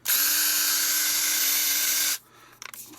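Ryobi ONE+ 18V cordless brushed combi drill R18PD3 running at speed, a loud steady high-pitched whine lasting about two seconds before cutting off, followed by a few faint handling clicks.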